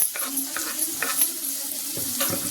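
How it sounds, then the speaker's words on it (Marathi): Finely chopped onion fries in a pan for a Maharashtrian chana dal zunka, with a steady close sizzle and a few soft stirring scrapes, no voices. "एकदम कांदा बारीक कापायचा आपल्याला आणि छान भाजून घ्यायचा कांदा."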